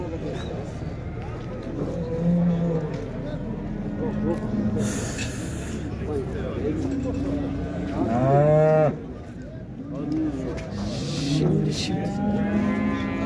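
Cattle at a livestock market in Şarkışla moo repeatedly, several low drawn-out calls spread across the stretch amid crowd noise, snorts and someone speaking.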